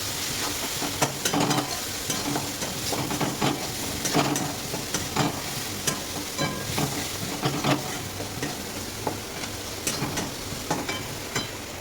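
Spices stir-fry in a pan for egg bhurji: a busy, close sizzle with repeated scraping strokes of a spatula that run steadily throughout, with no talking.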